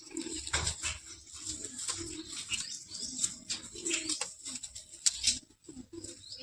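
Pigeons in a loft of fancy Kalshira and Kanta breeds coo in low, repeated throaty bursts, fairly soft and set against a steady rustle and light background chatter of birds.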